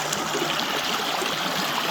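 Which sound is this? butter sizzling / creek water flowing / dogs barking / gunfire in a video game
creek water flowing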